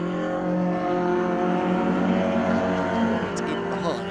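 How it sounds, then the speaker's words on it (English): A Mark II Ford Escort race car competing in a Modified Ford Series race at Cadwell Park roars past on track, its engine note loud and sustained, with a brief sharp noise near the end. "There goes the number 89 car."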